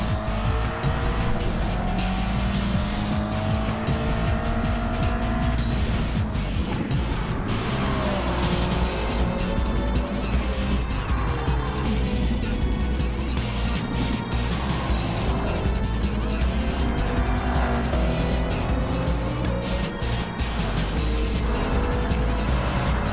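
A Nissan S14 race car in a racing video game, its engine droning steadily and loud throughout, with pitch rising and falling through gear changes and bursts of tire squeal through corners.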